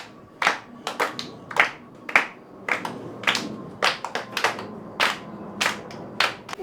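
A few people clap hands in a loose, uneven rhythm, sharp separate claps spaced irregularly and fairly close, with no talk between them.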